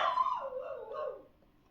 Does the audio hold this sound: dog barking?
yes